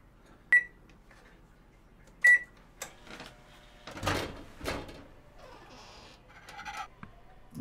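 A kitchen oven in Kyoto: two sharp electronic beeps, then clattering and thuds as the door shuts and food goes in, followed by softer rustling and clicks in a quiet room.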